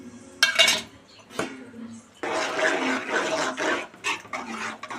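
A spoon scrapes and clinks against a pan while chukka kura curry with coconut powder and coriander is stirred, in short irregular bursts of clatter with wet, sloshing texture, close by.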